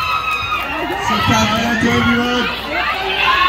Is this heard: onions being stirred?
no